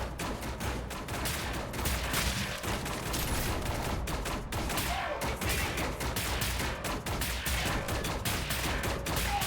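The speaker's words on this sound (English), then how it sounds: "why is this Nazi shooting at me?" Steady gunfire from an enemy Nazi soldier in Wolfenstein: The New Order, shots overlapping in a dense, continuous barrage that stays loud and close for the whole stretch.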